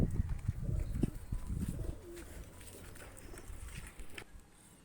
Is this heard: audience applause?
no